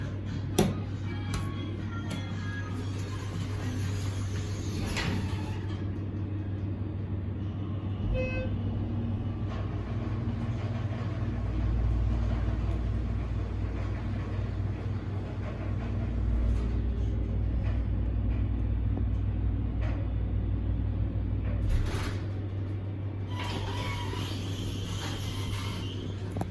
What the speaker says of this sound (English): this is the elevator at Nordstrom, Barton Creek Square in Austin